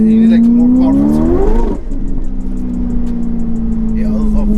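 A tuned Ferrari F8 driven with its exhaust off, the engine revving up steadily for about a second and a half before easing to a smooth, even drone as the car cruises on.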